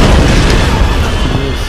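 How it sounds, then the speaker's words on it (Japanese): An explosion set off with fire in the Tomb Raider Definitive Edition game on PS4: a loud, dense, booming blast with a rumbling low end that stays heavy through the whole short stretch. "ファイヤーを使って爆発させちゃいましょう。"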